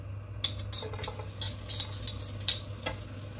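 Shallots and garlic sautéing in oil in a pan, a soft low sizzle under repeated scrapes and clinks of a utensil stirring against the pan, fairly quiet and close.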